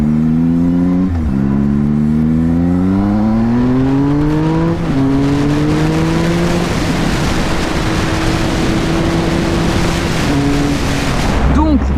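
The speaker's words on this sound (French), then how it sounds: "il y a un truc que vous entendez là. C'est la ligne d'échappement." A Triumph Speed Triple 1050 R motorcycle engine revs and holds a throaty exhaust drone, rising in pitch then settling, loud and close throughout.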